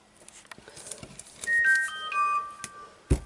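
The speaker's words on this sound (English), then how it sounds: "that was my phone" A phone notification chime rings out as a short sequence of bright electronic tones, heard faintly over low room noise and rustling while fabric is being pinned for a handmade purse.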